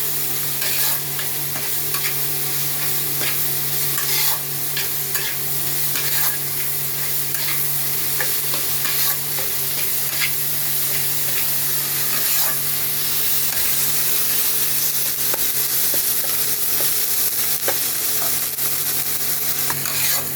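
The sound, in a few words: spice paste with turmeric being sautéed and stirred in a pan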